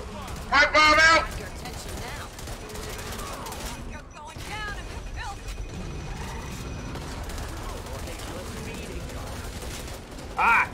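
Gunfire in the co-op shooter Back 4 Blood, rapid bursts of shots crackling beneath constant game noise, with players talking over the action.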